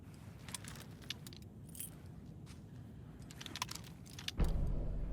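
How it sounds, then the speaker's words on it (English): A bunch of keys jangles as it is handed over in the video game Alan Wake 2, a close metallic rattle in several brief bursts over a low ambient hum, ending with a louder muffled thump. "You'll need these keys."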